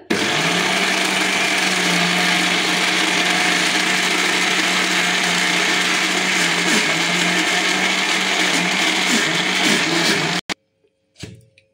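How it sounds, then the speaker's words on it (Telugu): Mixer grinder churning cream to make homemade butter, a loud, steady motorized whir close by for about ten seconds before cutting off, followed by a few faint handling clicks. "ఇప్పుడు మనం మిక్సీ వేసుకోవాలి. ఇప్పుడు మిక్సీ వేస్తున్నానండి నేను."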